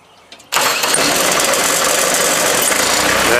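A Ditch Witch 7610DD directional drill's engine cranks briefly, then catches and roars into a loud, steady running rumble that holds to the end.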